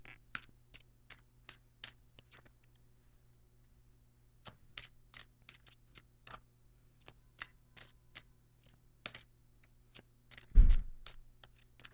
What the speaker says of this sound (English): I'm going to shuffle the cards for a minute.